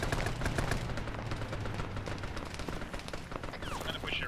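Heavy military gunfire in a battle game rattles on steadily as dense, continuous shots and bursts, with low rumbling underneath and voices talking over it throughout.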